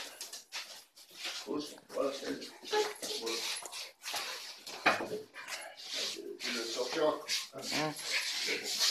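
Dogs whimper and whine indoors during first contacts in a house, a string of thin, uneven cries rising and falling in bursts, heard close amid people talking.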